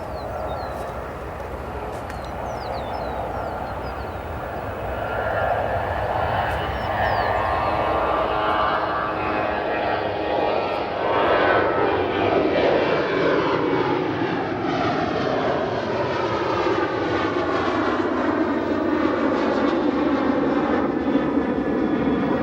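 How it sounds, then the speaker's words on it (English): A Boeing 737 departs runway 28 right at O'Hare Airport at sunset, its jet roar loud and building into a broad, sweeping rumble that rises and shifts pitch as the plane climbs away, with no talking. "Let's catch this 737 now,"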